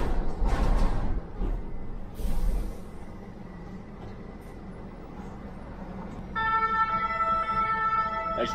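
A police siren starts up near the end and holds its wail, after loud traffic noise and passing vehicles earlier.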